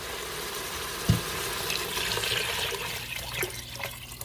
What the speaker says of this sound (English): I have 6 cups of water here that I'm going to add